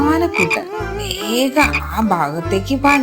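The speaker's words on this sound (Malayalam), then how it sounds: "ദൂരെ തവളച്ചേട്ടന്റെ കരച്ചിൽ കേട്ടത്" A cartoon frog croaks from far off in a rhythmic series of four or five deep, throaty calls, with a storyteller narrating in Malayalam over the croaks.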